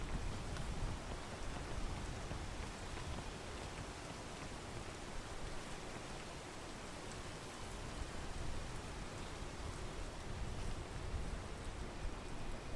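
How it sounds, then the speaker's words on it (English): Rain falls in the video game PEAK as a steady, faint, even hiss of dense drops with no voices over it. "No, not the rain!"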